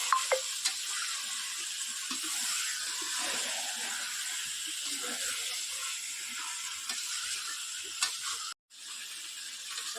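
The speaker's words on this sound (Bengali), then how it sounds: "দিয়ে এখন মাংসটি ভালো করে এবার নাড়তে থাকবো" Chicken stirred with salt in a cooking pot, a steady close sizzle with ratcheting scrapes of the spoon running throughout, cutting out briefly near the end.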